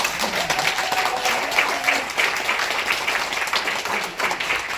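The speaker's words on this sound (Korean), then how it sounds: "변희재 미디어워치 대표 큰 박수로" An audience at a book launch concert applauds with sustained, dense clapping from a full room, steady and moderately loud throughout.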